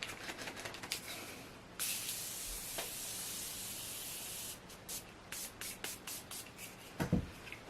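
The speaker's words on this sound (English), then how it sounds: "I'm going to spray my face with the Morphe Continuous Setting Mist." Morphe Continuous Setting Mist sprayed onto a face: a long, fine hiss of spray lasting a few seconds, then a quick series of short bursts, quiet and close to the microphone.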